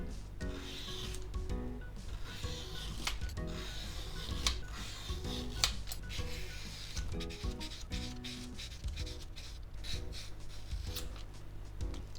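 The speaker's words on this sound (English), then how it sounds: "you want to take peeler and just make thin strips like these" A vegetable peeler shaves thin strips from a cucumber, making a continuous run of soft, close scraping strokes with small clicks, and no one speaks.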